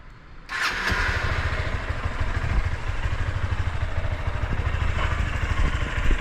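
A Honda CB200X motorcycle fires up and settles into a steady, close idle, its exhaust giving a continuous low rumble with a faint mechanical clatter.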